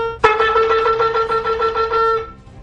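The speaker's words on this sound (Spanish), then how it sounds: "Terúa son 9 notas pequeñas en rápida sucesión" A ram's horn shofar plays the teruah, a rapid string of short staccato pulses on a brassy, trumpet-like tone, loud and close, each note clipped tightly against the next before the sequence ends.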